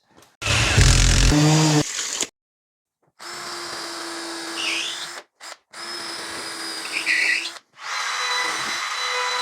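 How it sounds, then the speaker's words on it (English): A power drill fitted with a 3 mm bit whirs in short bursts while building a wooden stair gate: one loud close burst, then a pause, then several steadier runs broken by brief stops. "So what we're going to use is a 3 mil drill bit."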